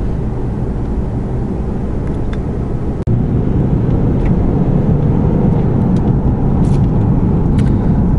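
A 2013 Lexus GS350 with sport suspension drives along twisty roads outside town, giving a steady loud road and engine rumble with tire noise, one brief dropout partway through, and no talking.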